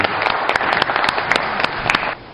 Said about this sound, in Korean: 여러분 같이 한번 박수 주시면 좋겠습니다